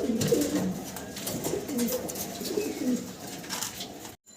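Pigeons cooing repeatedly close by at a pigeon farm, soft low throaty calls in a loose rhythm over faint background noise, no talking.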